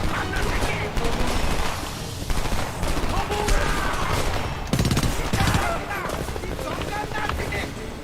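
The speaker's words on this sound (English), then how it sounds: "Shots on my position! Give me some covering fire!" Dense gunfire rattles through a Homefront game battle, with continuous bursts of shots and explosions layered with shouted voices and battle noise, loud and close throughout.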